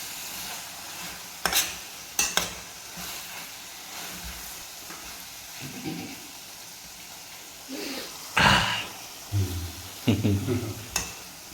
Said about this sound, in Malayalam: ഞാനിത് ഇളക്കിക്കോളാം